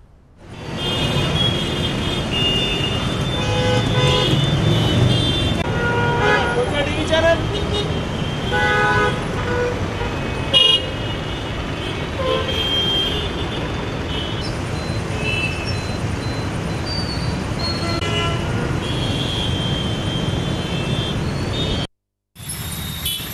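Dense traffic jam on a rain-soaked road in Kukatpally, Hyderabad, with car and bus horns honking repeatedly over a steady roar of idling and crawling engines, voices mixed in, before a brief cutoff near the end.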